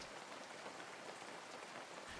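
Steady rain falling and pattering on surfaces, a dense, even hiss with no pauses, used as a dark ambient sound effect in a horror audio drama.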